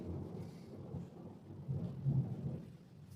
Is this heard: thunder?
yes